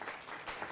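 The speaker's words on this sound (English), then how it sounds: "we can give Mike Bickford an applause" Guests at a hotel charity evening applaud a sponsor, a brief, soft, distant patter of clapping.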